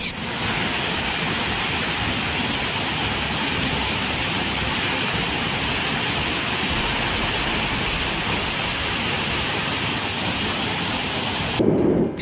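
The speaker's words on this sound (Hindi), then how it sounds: "जलप्रपात से गिरने वाला जल किस वेग से नीचे उतर रहा है" A waterfall in Jharkhand, swollen by heavy rain, roars in a loud, unbroken wash of rushing water with a deep, steady rumble, heard close and alone.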